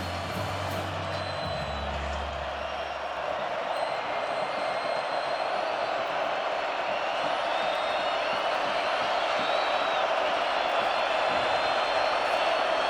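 A rowdy home crowd fills a 2024 college football stadium at Colorado against Kansas State, producing a constant, dense roar that holds steady and loud throughout.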